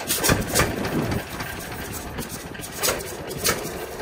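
A 1944 John Deere B tractor, unrestored and still in working condition on an Ohio farm, runs with a steady idle-like engine chug that pulses rhythmically at moderate loudness, with no voices over it.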